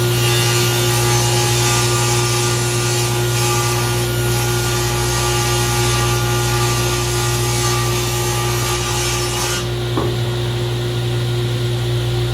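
A power saw cuts OSB boards for shop shelving, a loud continuous whining, grinding roar held steadily at close range before stopping abruptly near the end.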